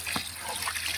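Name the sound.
water poured into vegetable curry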